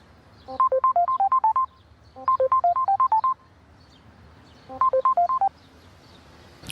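Three quick bursts of telephone keypad tones, each a rapid run of about eight beeps, separated by short pauses over a quiet background.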